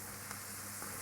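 Half a dozen chopped button mushrooms hitting a hot pan with crispy bits left over from lamb, giving a steady, close, quiet sizzle and frying hiss throughout, no talking.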